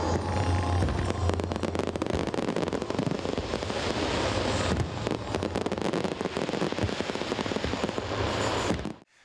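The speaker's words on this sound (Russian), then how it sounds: "небо над Немигой раскрасил не просто салют" Fireworks burst over Nemiga in Minsk during a laser firework show, a dense continuous barrage of crackling pops and booms with a low rumble underneath, loud and sustained for about nine seconds before ending abruptly.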